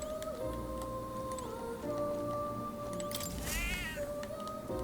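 A cat in the video game Metaphor: ReFantazio gives a single clear meow partway through, heard over a steady backdrop of soft game music and ambient tones.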